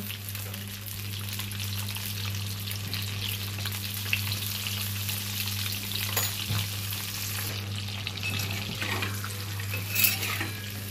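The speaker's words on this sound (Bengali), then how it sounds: "ডিমগুলো হলুদ দেওয়ার পরে এইভাবে একটু নাড়াচাড়া করতে হবে। ডিমগুলো আমি ভেজে নেব" Eggs with a little turmeric fry in hot oil with a continuous sizzle and occasional scraping and clinking as they are turned in the pan, over a steady low hum.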